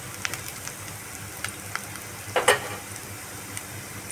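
Soft, steady sizzling of onions frying in mustard oil, with a few light clinks and a brief louder crackle partway through.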